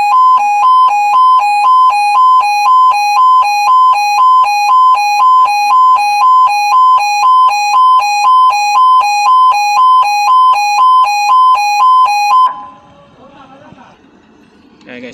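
A truck safety sensor alarm at a materials storage entrance beeps loudly in a fast, steady repeating electronic pulse as a truck drives in, then cuts off abruptly, leaving faint background noise.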